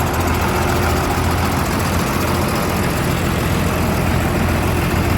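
A Deutz engine installed in a Terrion 3180 tractor after a major overhaul runs steadily at idle, a loud, continuous diesel clatter and rumble held close and unbroken throughout.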